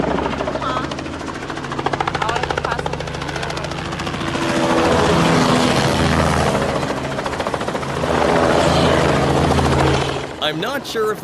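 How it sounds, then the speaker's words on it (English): A big twin-rotor CH-47 Chinook helicopter thunders nearby with heavy rhythmic rotor chop, swelling louder midway, with people talking over the roar. "brought in by none other than a CH-47 Chinook helicopter"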